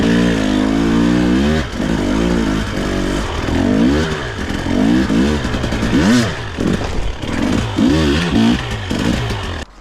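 A 2022 Husqvarna TE300i enduro dirt bike's engine revs hard and close, rising and dropping in repeated throttle bursts as it rides up to and jumps a small gap, loud throughout.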